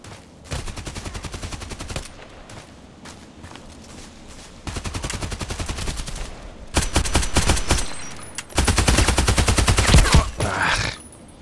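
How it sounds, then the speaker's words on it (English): H&K UMP45 submachine gun firing in the video game Contract Wars: several loud bursts of rapid automatic fire, separated by short pauses, with the last bursts the heaviest. "I was shooting and I was not hitting him at all"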